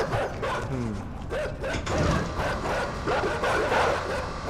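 Dogs bark and yelp in the dark puzzle-platformer INSIDE, a few quick barks up close over rumbling game noise and mechanical sounds.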